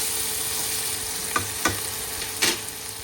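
Tomatoes frying in a pan give off a steady, close sizzle, broken by a few sharp scrapes and stirs of a utensil against the pan.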